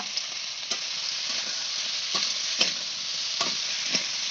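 Pre-fried crab is tossed into a pan with eggplant and potato and stirred, a steady hiss of sizzling oil broken by soft, repeated spatula scrapes, close and with no voices.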